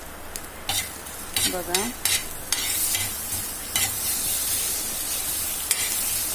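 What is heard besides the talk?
egg bhurji sizzling and being stirred in iron pan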